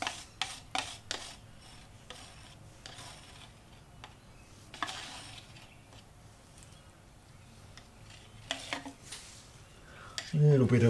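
Metal spoon scraping and clinking against a cup to get out leftover acrylic pour paint, giving a run of short, close scratchy strokes and taps.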